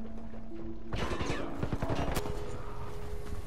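A grey rarity assault rifle fires in Warface in one rapid, close, loud automatic burst of about a second, then stops, leaving low background game hum.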